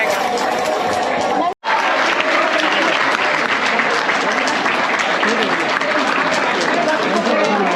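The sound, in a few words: college audience clapping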